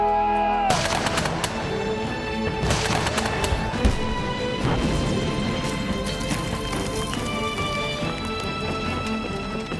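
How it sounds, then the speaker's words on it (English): Loud, dense battlefield barrage of gunfire and artillery bombardment, with sharp shot transients and heavy booms layered continuously over a rumbling, busy low end throughout. "the gunfire and bombardment terrorized the whole town"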